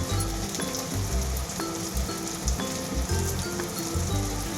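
Onion frying in a pan with garlic paste, a steady hiss like light rain with sputtering pops from spattering oil and low bumps from below.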